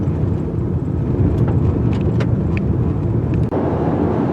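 A 2019 Lexus RX450h hybrid SUV driving in sport mode, heard as a steady, loud interior road and engine rumble with tire roar, continuous and unbroken apart from a brief dip.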